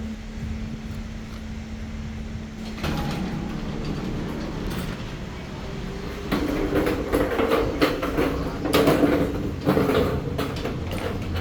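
A 1979 Otis lift in a Tuen Mun industrial building in Hong Kong runs with a steady motor hum, then shifts into louder mechanical rumbling and rattling as the car moves, close by and without talk.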